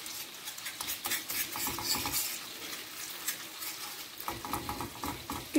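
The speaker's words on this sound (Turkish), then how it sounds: "Güzelce karıştıracağım." A spoon works tomato paste through melted butter in a pan, giving a soft, faint sizzle with light scraping and clinks of metal against the pan in an irregular rhythm.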